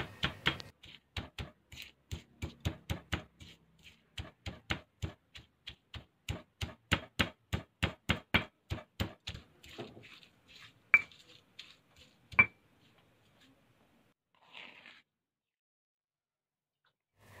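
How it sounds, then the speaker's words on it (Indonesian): Rapid rhythmic pounding, dozens of sharp knocks of a stone mortar and pestle coarsely crushing green chilies, that slow and trail off into a few last taps, with no talking. "Cabai hijau kita ulek sebentar saja, sekedarnya tidak menjadikan halus, tetap dalam bentuk yang kasar."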